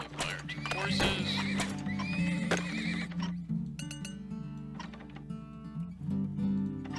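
Horses in the video game Turmoil give loud neighs and whinnies over clip-clopping hooves, with a game music tune running underneath and a voice talking faintly at times.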